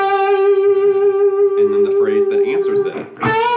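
Electric guitar with effects playing a short blues-rock question phrase, a sustained bent note ringing before quick sliding notes and a final held note, loud and close with echo and no talk over it.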